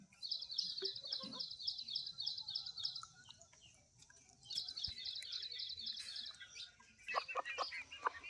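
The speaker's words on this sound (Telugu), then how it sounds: "మా కోళ్ళు" Chickens cluck and chirp in rapid repeated bursts, with a pause midway, then more calls and a few sharper squawks near the end, outdoors at moderate distance.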